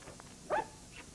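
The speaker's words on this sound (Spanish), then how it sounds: "Perro pulquiento en mi cama, yo no lo quiero." A dog gives a single short, sharp bark with faint yips and whimpers around it, fairly close, with no voices during the sound.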